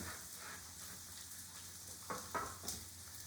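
Squash sautés in a pan with a steady, quiet sizzle and a few brief stirring clicks near the end, all without speech.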